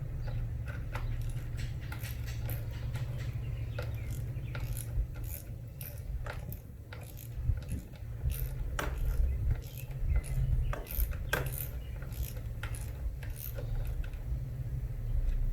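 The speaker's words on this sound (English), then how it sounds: "Gonna ratchet and tighten it up just a little bit." A hand ratchet tightens a bolt on a 6.2 LS engine, giving repeated close clicking strokes over a steady low hum from the workshop, with no talk.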